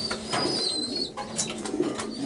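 Racing pigeons coo in a loft, a brief close burst of throaty overlapping calls with faint chirps amid light background rustle.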